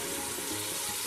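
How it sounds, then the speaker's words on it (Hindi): Chickpea broth poured into a pot for white chana pulao, a dense continuous gush and sizzle of liquid hitting the hot pot, close and loud throughout the short moment. "चने वाला सूप डालना है।"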